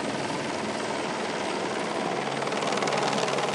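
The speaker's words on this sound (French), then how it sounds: "Chaque matin, seuls les va-et-vient de cet hélicoptère rappellent que l'endroit est isolé." A helicopter flying over an isolated, roadless site on Réunion gives a steady, loud, broadband rotor and engine roar that holds without a break throughout.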